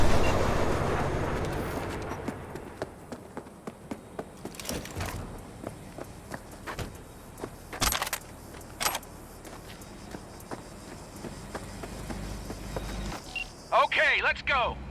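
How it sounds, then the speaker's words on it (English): A train pulls away in Cyberpunk 2077, a low rumbling rail roll with intermittent clanks and thumps that builds over the scene, while voices talk in the background. "the train's leaving"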